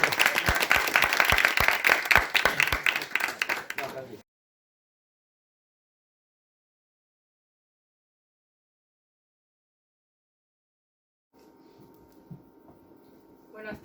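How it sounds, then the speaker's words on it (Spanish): An audience claps loudly after student research project presentations at IES Francesc Ferrer i Guàrdia. The dense burst of applause lasts about four seconds, then cuts to silence, followed by a faint low room murmur. "pues un aplauso final ya"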